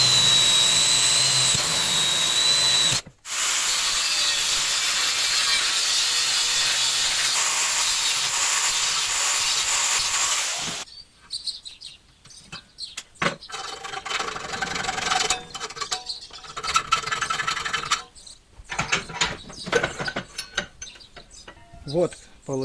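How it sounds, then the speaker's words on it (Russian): Drilling holes through a metal clamp for clamp bolts, a loud continuous high-pitched whir of a drill biting into metal, cut once briefly, then stopping and giving way to scattered clanks and handling noises. "Дальше делаем два отверстия через хомуты для прижимных болтов"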